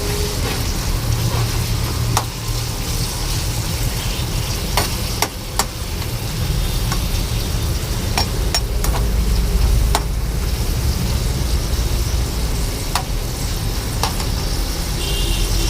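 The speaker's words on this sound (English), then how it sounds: "now it's really starting to sizzle." Egg and tomato sauce sizzles steadily in a hot frying pan, a dense crackling hiss with occasional sharp pops and clicks throughout.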